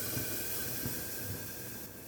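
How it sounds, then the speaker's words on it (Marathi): Water splashed into hot semolina halwa (sheera) in a pan sets off a loud, steady steam hiss that fills the whole short moment without a break; no one speaks. "बघा मी पाणी घालते आणि पटकन झाकण झाकते"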